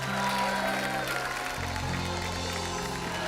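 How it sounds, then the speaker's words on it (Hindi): A television studio audience claps to welcome actress Deepika Padukone onto a comedy show stage, a sustained broad wash of applause under music, steady for a few seconds. "आप सबकी जोरदार तालियों के साथ प्लीज वेलकम फिल्म गहराइयां से the very gorgeous and stunning Deepika Padukone"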